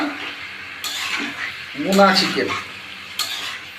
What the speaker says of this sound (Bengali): আমি এবার আবার একটু মাংসটাকে নাড়িয়ে দিচ্ছি